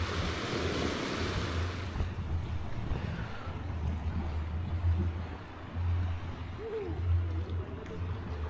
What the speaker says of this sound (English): Nothing more relaxing than hearing the sea crash against the rocks.